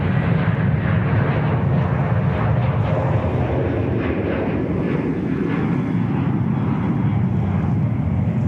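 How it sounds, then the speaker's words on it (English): ANA airliner from Tokyo Haneda arriving at Sydney Airport, a loud, continuous jet engine roar with a broad rumble that holds steady for the whole stretch. "we'll enjoy our A&A arrival coming from Tokyo Haneda"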